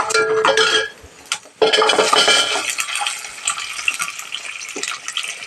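Small onions dropped into hot oil already roasting chana dal, mustard seeds and urad dal for a chutney, bursting into a loud, steady sizzle with a brief clatter of a pan and stirring, heard close without talk.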